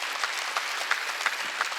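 A church congregation at a Wednesday worship service claps briskly together, a dense steady burst of applause filling the hall without talk.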